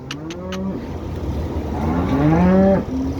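A cow moos twice nearby on a cattle farm in Saudi Arabia, long low calls rising and falling, over a steady background rumble, with a few short clicks at the start.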